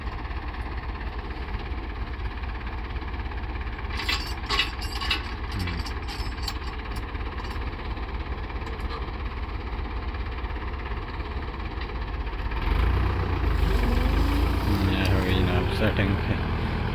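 A tractor engine runs steadily in a farm field in Pakistan while a reaper is being set up. The engine drones continuously, people talk over it throughout, and the rumble grows louder near the end.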